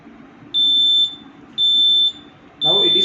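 An INFUMAX infusion pump sounds its target-reached alarm: three steady, high electronic beeps of about half a second each, evenly spaced and loud, with faint background noise and a brief rustle at the end.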